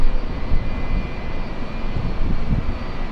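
A passenger airplane passes low overhead at LAX, a loud, steady, roaring jet engine rumble that fills the whole moment with no voices.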